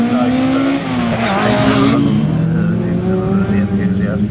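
Prototype Fiat Tipo rally car driven by Philip Morton on a live rally stage at the Race Retro show, its engine droning loud and steady throughout, with pitch rising and falling under a spectator voice.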